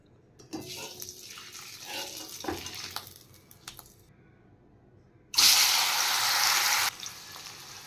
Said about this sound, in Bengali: এবার আমি এখানে পনিরগুলো প্রথমে ভেজে নেব।